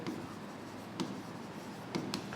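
A marker or chalk writes on a classroom board in soft, close scratching strokes, with a few sharper taps at intervals during a quiet accountancy lesson.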